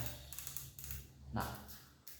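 Faint, quick mechanical clicks in short runs as the turret on a PCP air rifle scope is turned, in a quiet room.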